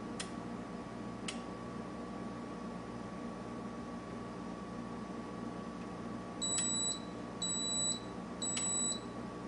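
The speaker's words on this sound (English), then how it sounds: "A momentary alarm will sound and the MASH heat off will display in the upper left-hand corner." A home brewing system's controller sounds a momentary alarm at the end of the mash out rest: three short, even electronic beeps, evenly spaced, over a faint steady hum with a few soft ticks.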